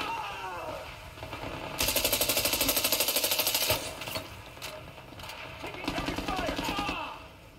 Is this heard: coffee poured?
no